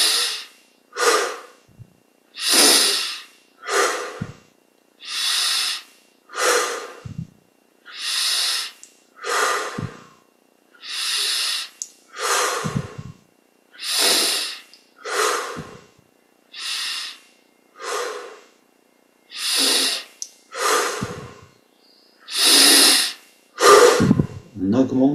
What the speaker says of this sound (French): On prend 20 grandes respires maintenant, détendu,